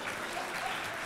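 A lecture audience claps continuously in a short, even burst of applause from a crowd in a hall.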